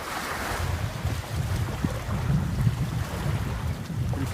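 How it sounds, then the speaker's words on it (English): Wind and waves roll steadily along the eroded Lake Michigan shoreline, a constant loud rush of surf mixed with buffeting wind noise on the microphone and no voices. "I may be competing with the waves and the wind"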